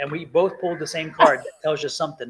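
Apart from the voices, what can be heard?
dog barking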